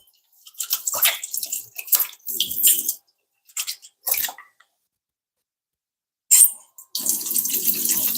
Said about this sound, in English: And then I'm gonna wash my hands again.